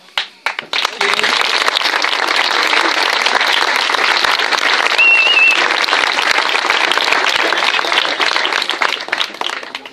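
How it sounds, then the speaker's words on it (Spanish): Strong, loud applause at an athletics club gathering honouring two athletes, a full crowd clapping densely and steadily after a brief ragged start, with a whistle rising in the middle. "voy a pedir también un muy fuerte aplauso para ellas"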